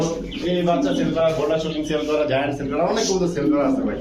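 Pigeons coo steadily in a pigeon shop, a dense, continuous murmur of calls from many birds close by, with no talk over it.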